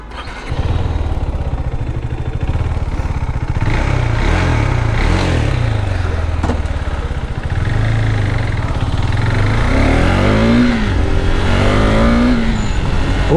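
A 2022 KTM RC390 BS6 motorcycle with a quick shifter accelerates hard, its single-cylinder engine revving loud and close, with rising pitch sweeps and brief dips as gears change clutchlessly, sustained throughout.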